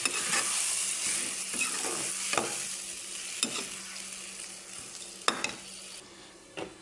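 Chicken pieces fry in spice masala in a hot pan, giving a steady, loud sizzle broken by repeated scraping clicks as the mixture is stirred.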